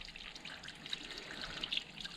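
Faint water trickling and dripping from a small seep near the top of a mountain, a soft, steady, close patter with no talk.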